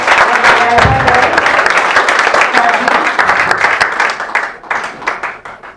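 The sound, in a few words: audience applause at a school science exhibition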